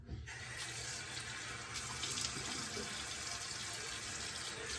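Tap water runs steadily into a sink at a moderate level after a brief quiet start while someone wets their face before shaving. Light splashing changes sit over the flow, and no one speaks.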